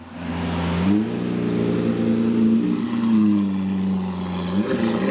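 Costly $500,000 car in Miami, Florida, its engine giving a loud, steady droning hum that shifts pitch slightly near the start and holds close by throughout.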